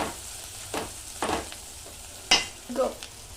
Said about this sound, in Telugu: ఆనియన్ అయితే ఫ్రై అయిపోయింది కదా, కొంచెం పసుపు వేసినాను.